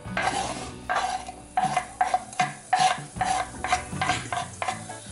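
Chopped onions sizzle in olive oil in a hot pan, broken by a steady series of scraping stirs from a utensil, close and moderately loud with no talking.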